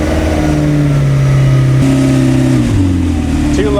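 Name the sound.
McLaren car engine revving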